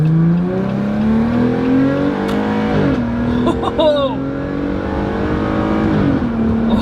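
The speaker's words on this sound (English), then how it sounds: "I just can't get over that Borla exhaust" A Jeep Gladiator engine with a Borla exhaust revs and roars up close, its exhaust note rising and falling in bursts, with people talking over it.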